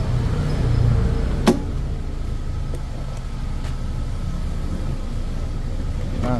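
A car with 96k on the odometer, just back from a top overhaul after a snapped timing belt, idles with a steady low rumble nearby, with a sharp knock and faint clicks over the engine.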